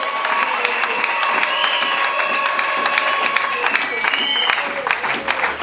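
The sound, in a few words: applause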